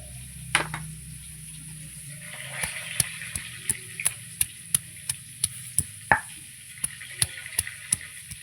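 Ginger is ground on a grinding stone, a run of evenly spaced sharp knocks at a steady rhythm, close and fairly quiet, with a faint hum in the background.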